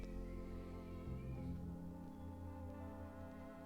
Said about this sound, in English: my cat just screamed at me so loud